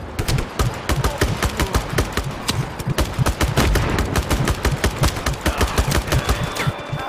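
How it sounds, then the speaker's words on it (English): Enemy gunfire pours in during a Just Cause 3 military fight, loud rapid bursts of automatic shots in a dense, relentless rhythm with brief gaps between volleys. "Who's shooting me?"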